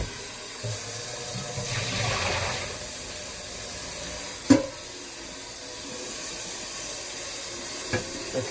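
Cold water runs steadily into a cooking pot, a continuous hissing pour at close range with a brief clunk midway and a faint knock near the end.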